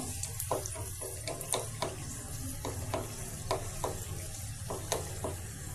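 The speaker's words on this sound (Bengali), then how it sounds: "মরিচটা দিয়ে একটু লালচে করে ভেজে নিব।" Garlic cloves and dried red chili frying in hot oil in a kadai, a steady low sizzle broken by repeated sharp scraping clicks of a spoon stirring, close and moderately loud with no voices.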